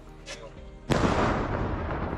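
A blast destroying a railway bridge near Severodonetsk in the Ukraine war, heard as a sudden loud broadband boom that rolls on in a sustained roar, following faint quieter sounds.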